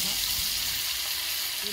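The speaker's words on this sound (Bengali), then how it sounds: "তো মাছ ভাজা আমি বসিয়ে দিয়েছি" Fish pieces fry in oil in a home kitchen pan, a continuous broadband sizzle at an even level with a soft knock early on.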